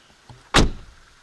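A car door shuts with a single solid, close thump, preceded by a faint click. The rest is quiet.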